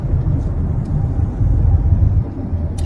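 A car cruises on a highway at steady speed, a loud constant low road and engine rumble close around the listener, with no pauses and no talk.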